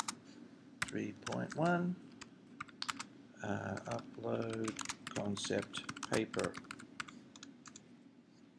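Quick clicking keystrokes on a computer keyboard, heard close and crisp in bursts, mixed with a voice speaking over much of the typing.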